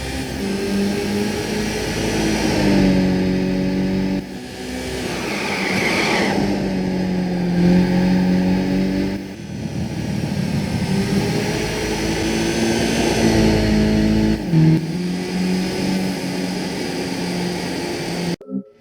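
A race car engine in the Gran Turismo PSP game at Tsukuba climbs through repeated loud revs, each rising whine cut by a gear shift, playing alone without talk.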